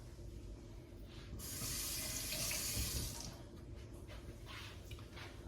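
Water from a kitchen tap runs into a sink as a tomato is rinsed, a quiet steady splash that swells for about two seconds in the middle before settling back to a softer trickle.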